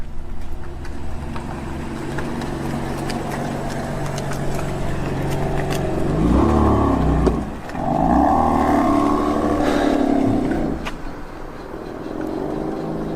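BMW M3 driving past and revving, an engine drone swelling as the car approaches, peaking loud and close, then fading away, with no talking.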